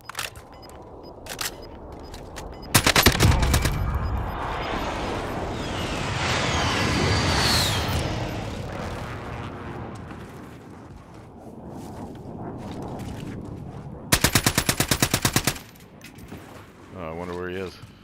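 Gunfire in Call of Duty: Warzone: a loud burst of automatic fire early on and another rapid burst later, with sustained noisy game action in between and voices talking.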